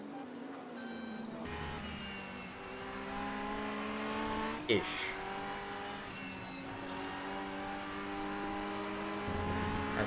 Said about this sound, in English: Has some lovely engine sounds.